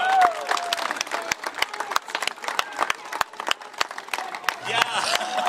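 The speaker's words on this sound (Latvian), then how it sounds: "Aplaus un ovācijas." Crowd clapping and cheering along a festival procession at the Gaujas holiday in Ādaži, with sharp scattered claps and an announcer talking over the top.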